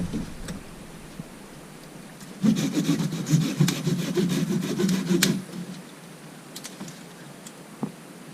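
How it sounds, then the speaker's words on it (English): A hand saw cuts through branches in a wooded river setting, giving about three seconds of steady, close back-and-forth rasping strokes, followed by a few scattered cracks. "We're going to try to cut some branches and wedge our way through there."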